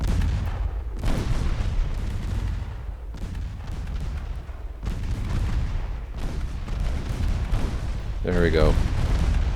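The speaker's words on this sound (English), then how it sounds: "3-inch guns at close range. Doing some brutal work against that DD." Naval 3-inch guns firing at close range in the Ultimate Admiral Dreadnoughts naval warfare game, repeated booming shots at irregular intervals with a voice speaking briefly near the end.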